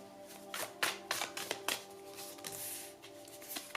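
Tarot cards are shuffled and drawn in quick succession, a steady run of papery riffles and soft slaps close by, with light taps as cards are laid down and no talking.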